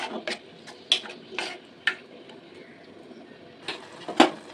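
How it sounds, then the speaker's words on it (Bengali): Prawns for chingri macher bati chorchori stirred in a cooking pot, with a handful of sharp metal scrapes and clinks spaced irregularly over a faint bubbling simmer, close by and without talk. "আর একটু নাড়াচাড়া করে নেবো চিংড়ি মাছটা।"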